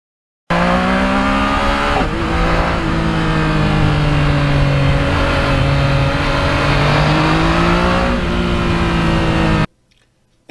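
Yamaha MT-09 naked motorcycle on hilly, twisty back roads, its engine droning loud and steady with rising and falling revs and a gear change early on, wind rush throughout, cutting off abruptly near the end.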